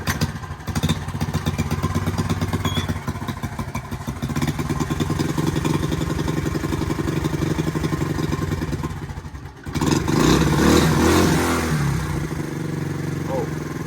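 A 1971 Honda CT70 motorcycle engine fires up after a kickstart and runs with a close, rapid buzzing putter, then briefly cuts low before revving back up louder and rougher, settling into a steady idle.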